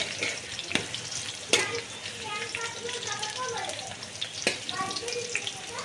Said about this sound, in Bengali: গোটা আলুটা আগে ভেজে নিচ্ছি প্রথমে লাল লাল করে ভেজে